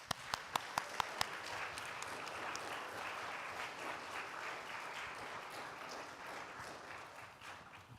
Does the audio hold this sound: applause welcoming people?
yes